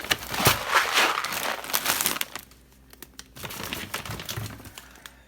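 A plastic package of peas is crinkled and handled up close, dense rustling and crackling for about two seconds, then a quieter stretch with a few sharper crinkles toward the end.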